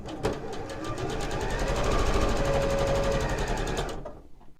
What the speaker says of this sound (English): I am going to go ahead and sew the opposite side on.